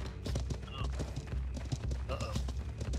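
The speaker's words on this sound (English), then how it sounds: "2 horses going south." Two horses clip-clop in a video game, their hooves tapping in an uneven rapid rhythm beneath people talking over the top.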